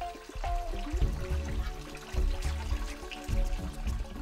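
Water pours and splashes into a fish aquarium tank in a steady, close gurgling stream with a few surges, heard alone without speech.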